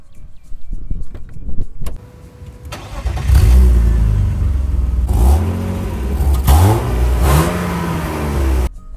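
BMW E36 323ti Compact with an inline six-cylinder engine, heard on board while driving: the engine note climbs loudly through several rising sweeps with brief dips between gear changes, after a quieter idle and some interior clicks at the start.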